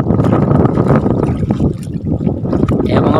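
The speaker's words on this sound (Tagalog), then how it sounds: "malakas ang amihan" Strong amihan wind gusting over a tilapia fish pond at harvest, a loud continuous rumbling buffet against the microphone with watery lapping underneath.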